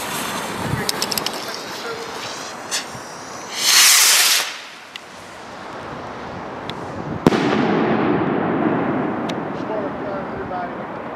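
Fireworks are set off on the street in Valencia. A fuse hisses for a sharp second, then a single loud bang goes off close by, followed by crackling and rumble, among scattered pops and people talking in Dutch.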